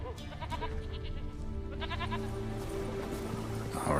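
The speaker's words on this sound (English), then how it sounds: "Here, goat." A goat bleats repeatedly in The Witcher 3, with wavering, nasal calls over a steady low game ambience and music bed, with no talking.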